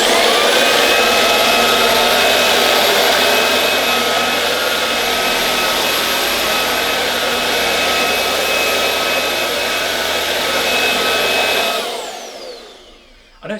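A Shark WV362UKT cordless vacuum cleaner runs at a loud, steady whine with a broad airy roar for about twelve seconds, then the motor spins down and fades out.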